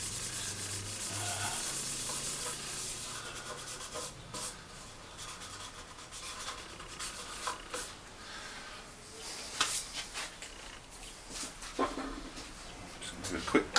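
Wood is sanded by hand with an Abranet mesh sanding strip, giving a continuous scratchy rubbing with uneven strokes and occasional sharper scrapes.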